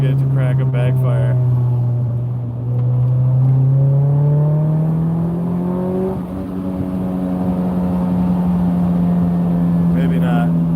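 Acura Integra engine held at steady revs then raised, a loud droning rumble with strong harmonic tone that climbs and settles, close up and continuous with no clear backfire pop.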